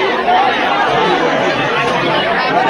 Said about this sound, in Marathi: इकडे आवरी गर्दी आहे